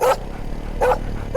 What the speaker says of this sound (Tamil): நைட்டான அந்த நாய்ங்க தொல்லை.